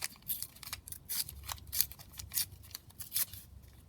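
Paper torn by hand around a shape during a crafting project, a quick series of short, crisp ripping bursts close to the listener, with no talk.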